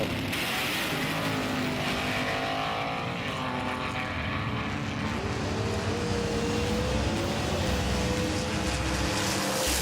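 The race cars Metal Mania 3D and NZ Racing run with a continuous loud engine drone, its pitch rising and sliding as they race, with no one speaking.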